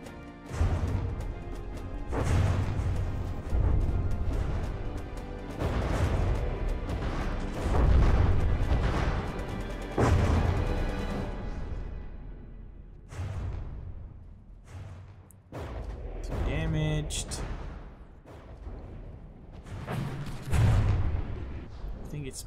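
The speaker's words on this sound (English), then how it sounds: "Seeing the explosions from the flak." Flak cannon fire in the naval combat game From The Depths booms out in repeated heavy explosive bursts, some sharp and close, others rumbling, irregularly spaced with quieter gaps between them, and a voice speaks among the blasts.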